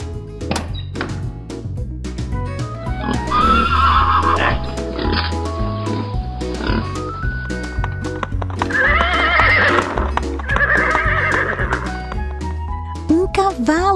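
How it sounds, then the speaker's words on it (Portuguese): A toy-style horse sound effect: rhythmic clip-clop hoofbeats under two loud whinnying neighs, with a bright musical backing throughout. "Um cavalo!"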